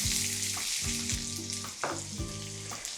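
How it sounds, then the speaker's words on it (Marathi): Finely chopped onion fries in hot oil with cumin for kala chana masala, a steady loud sizzle with stirring scrapes from a spoon repeating every second or so, and no one speaks. "आणि अगदी सोनेरी रंग येईपर्यंत कांदा व्यवस्थित आपण परतून घेऊया"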